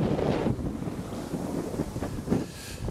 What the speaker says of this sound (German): Ich hoffe, meine Stimme hört man heute überhaupt recht gut, dadurch, dass es ziemlich windig ist.